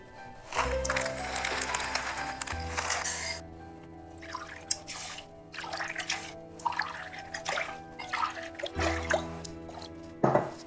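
Water is poured onto wheat while making the Ukrainian Christmas dish kutia, giving splashing, trickling bursts in uneven stretches over steady background music, fairly loud and close.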